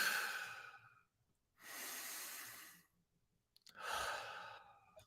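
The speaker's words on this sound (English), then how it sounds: "let's breathe in, deep inhale, complete exhale." Three long, breathy airflows of a slow breathing exercise, a deep inhale and full exhale through the mouth or nose, close and soft with quiet gaps between them.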